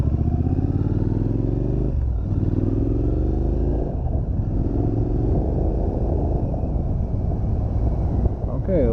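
A 2018 Street Scrambler motorcycle pulls away and accelerates, its engine note climbing through gear changes with steady wind rush at the microphone, loud and continuous throughout.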